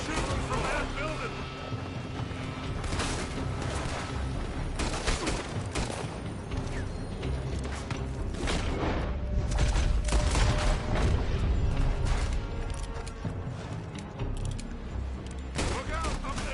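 Gunfight in the video game Red Dead Redemption 2, with dense rapid gunfire, overlapping shots and booms crackling almost continuously, loud and close, while voices shout over the shooting.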